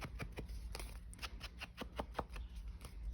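Scissors trimming a paper tag for a crafting pocket, a quick series of crisp snipping cuts, close and quiet, in an uneven rhythm.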